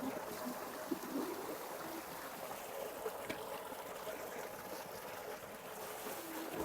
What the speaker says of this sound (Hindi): फजर ने अपना घड़ा भर लिया।